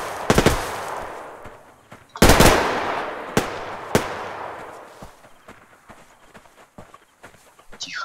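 Gunfire in the online shooter Survarium during a team match: a few loud, close shots and a heavy crack, then scattered fainter distant pops and clicks as the firing dies down.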